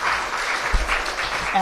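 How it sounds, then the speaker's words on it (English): Brief burst of applause from a summit audience, a dense wash of clapping that holds steady throughout. "let's give everybody a round of applause"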